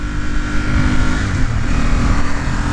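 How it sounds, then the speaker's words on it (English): A 2007 Ducati Monster S4RS engine drones steadily and loudly up close, a constant low rumble with a faint whine over it. "This bike really needs an exhaust"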